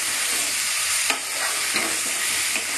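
Green chillies hit hot oil for Bengali mutton kosha, bringing a bright, hissing sizzle with a few soft stirring scrapes, close and steady.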